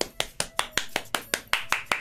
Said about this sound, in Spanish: Puedo aplaudir y somos muchas personas.